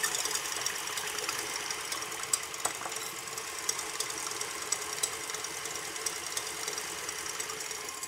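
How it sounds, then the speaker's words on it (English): Stand mixer whisk beating eggs until creamy and airy, a steady faint mechanical whirring with a rapid rattling rhythm throughout, no voices. "I'm going to beat them for about 2 to 3 minutes until they get really creamy"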